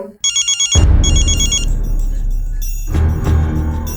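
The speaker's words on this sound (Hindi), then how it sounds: "लेकिन संगीता का फोन न लगो, तो हमने अपने मकान मालिक को फोन कर लो।" A telephone rings with a rapid electronic trill, loud and close, then a burst of rattling noise and clatter follows.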